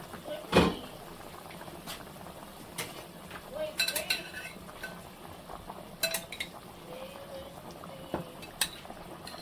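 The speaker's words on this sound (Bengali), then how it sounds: "পানিটা ফুটে গেছে" Water bubbling at a boil in a pot for a curry broth before eggs go in, a low steady rumble with clinks of utensils against the pot and a sharp knock near the start.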